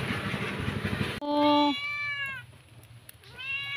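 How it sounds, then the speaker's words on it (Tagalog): A cat gives a loud, close meow with clear harmonics, then a second shorter, fainter meow a moment later, following a burst of rustling noise outdoors. "Ang lambing kaya itong pusa na to."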